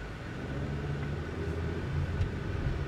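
A 2013 Hyundai Elantra GT driving, a low steady engine and road rumble heard faintly from inside the cabin, with no talk.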